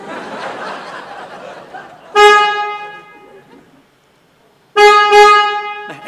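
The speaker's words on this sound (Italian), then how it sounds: "Perché vuoi che il clacson suoni più forte?" A car horn with a faulty, weak sound gives two loud, bright honks, each lasting under a second, separated by a pause. A brief laugh-like voice sound comes before the first honk.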